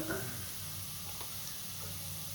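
Potatoes fry in a pan for pasta, seasoned with chili powder. A soft, steady sizzle holds close but fairly quiet throughout, with a few faint stirring clicks.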